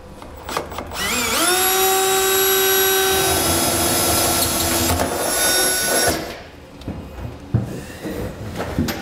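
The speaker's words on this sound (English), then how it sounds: "we're gonna take a 3/4 inch hole saw" A power drill spins a 3/4 inch hole saw through a truck bed for a fifth-wheel hitch underbed kit installation, a loud rising whine that holds steady for several seconds, then cuts off into clattering handling noise.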